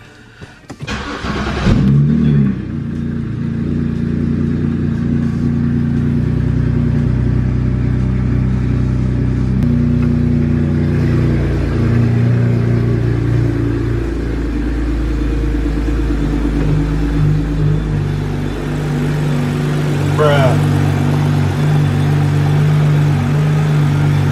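A BMW E90 328i with a freshly replaced valve cover gasket cranks and catches, then settles into a loud, steady idle rumble that runs close by for about twenty seconds with slight rev swells.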